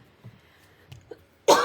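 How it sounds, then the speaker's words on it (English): One short, loud cough bursts out suddenly near the end, after a few faint low bumps, indoors during a craft painting session. "Cough's starting to come back."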